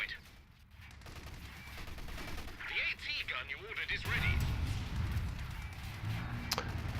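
Rattling machine-gun fire, including a Vickers machine gun, crackles through a distant war-game battlefield with scattered shots and booms, while someone comments over it.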